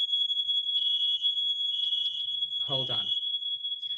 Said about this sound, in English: Oh, I forgot they're testing our fire drill.